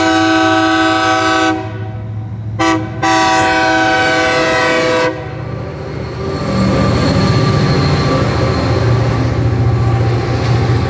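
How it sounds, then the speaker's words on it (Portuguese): A loud train horn blares in long sustained blasts with a brief break, then the heavy rumble and clatter of the train rolling past close by at a crossing in Rolândia. "Olha o trem, pessoal, sai da frente."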